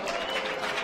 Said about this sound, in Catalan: Aplaudiments i crits alhora